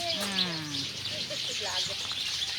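Birds chirp and sing in the background, thin high calls scattered through the clip alongside a low animal-like bleat and ambient outdoor noise.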